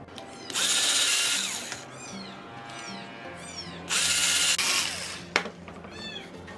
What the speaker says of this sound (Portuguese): No meu caso, eu vou furar porque eu vou fixar com parafuso.